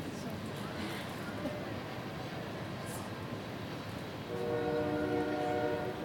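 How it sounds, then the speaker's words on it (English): Train horn at an outdoor university commencement ceremony, a steady harmonic blast rising near the end over continuous crowd and ambient noise. "I'm waiting for the train."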